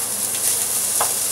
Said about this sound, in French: on va faire revenir d'abord nos lardons